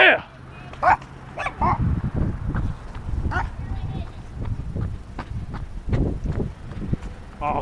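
Several dogs give short barks and yips in quick bursts, fairly close, scattered across the clip amid scuffling and a man's excited exclamations.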